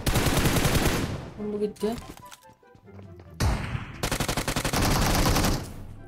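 Rapid automatic gunfire from a video game, loud bursts aimed at a target, broken by a pause with scattered tones, then more sustained rattling fire; someone talks in between.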